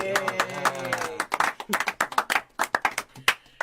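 Several people clap their hands in a brisk, uneven burst of applause, close by and moderately loud. A voice speaks over the first second before the clapping takes over.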